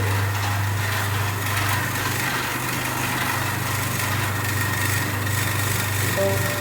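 A single-phase induction motor runs under load in a lab load-characteristics experiment, giving a steady, continuous low hum with a constant mechanical whir on top, fairly loud and unchanging throughout, with no talking.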